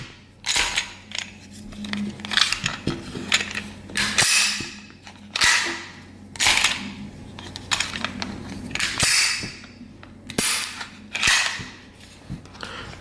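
A Walther PK 380 pistol in .380 ACP being function-checked after cleaning and reassembly, with a series of sharp metallic clicks and snaps from the slide and trigger, irregularly spaced and close, with no talking.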